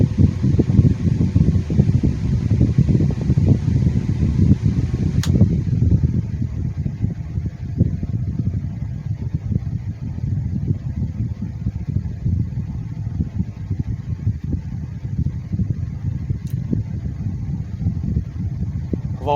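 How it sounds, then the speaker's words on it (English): A Holmes 9-inch HAWF-2020N window fan running steadily, a smooth low whooshing drone of moving air that stays constant throughout, with a couple of faint clicks and no speech. "I've always loved the sound of these fans. Very relaxing, not loud or noisy at all."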